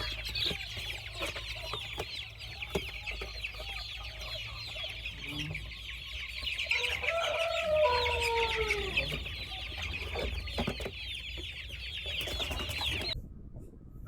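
Chickens being transported by truck cluck continuously amid a noisy background, with a rooster's crow rising in the middle of the steady din.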